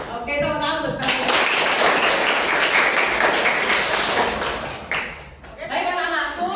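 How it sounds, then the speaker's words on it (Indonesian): Children in a classroom clap together in a loud, dense burst lasting about four seconds, with a teacher's voice briefly before and after it. "tepuk tangan untuk kalian"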